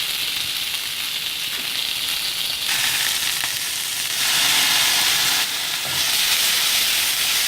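Chicken sizzles loudly in a pan after a sprinkle of white vinegar, a steady hiss that surges louder in two bursts midway, with no talking.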